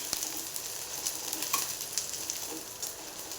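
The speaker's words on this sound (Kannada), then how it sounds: "ಈ ಥರ ಚೆನ್ನಾಗಿ ಫ್ರೈ ಆಗಬೇಕು ಈರುಳ್ಳಿ ನಮಗೆ" Sliced onions fry in a pan with a steady, soft sizzle and crackle, occasional small pops and a faint stirring scrape, close by with no talking.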